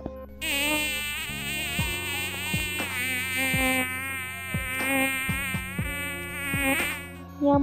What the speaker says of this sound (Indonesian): Contoh hewan ketiga adalah nyamuk.